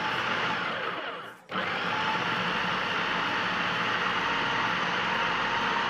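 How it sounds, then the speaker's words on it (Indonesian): A Boulder food processor grinding chicken meat for dim sum filling, a loud steady motor whir that briefly cuts out and then restarts, close and continuous with no talking. "saya menggunakan Boulder Food Processor untuk menghaluskan daging ayamnya"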